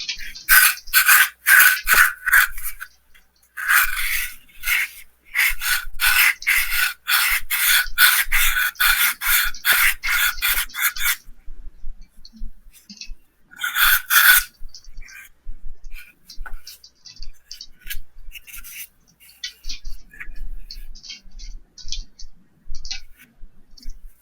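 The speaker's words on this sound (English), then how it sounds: "This isn't a clean, fresh sanding sponge. Might have been sanding some primer" A used, dirty sanding sponge rubbed back and forth over a surface that may carry primer, giving close, rhythmic raspy strokes in bursts with pauses between them and fainter scraping later on.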